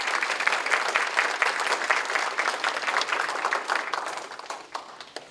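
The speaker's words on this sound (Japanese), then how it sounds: "大きな拍手をお願いいたします。" Audience at a public meeting on school reorganization giving a big round of applause, dense many-handed clapping that holds steady, then thins and fades toward the end.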